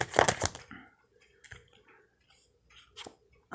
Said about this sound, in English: For our Scorpios here, one quick shuffle.